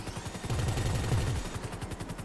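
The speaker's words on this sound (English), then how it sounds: "Don't mind those bullets. Just testing my gun." Rapid bursts of gunfire from a GTA V Online firefight, a fast run of sharp shots followed by further quick volleys, loud and close throughout with no talking.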